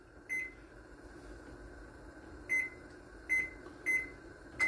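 Electronic oven control panel being set to 375 degrees: five short, fairly quiet beeps, one early then four grouped toward the end, over a low steady room hum.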